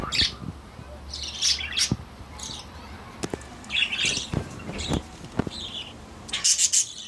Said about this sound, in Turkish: Çok tatlı bir kuş gerçekten.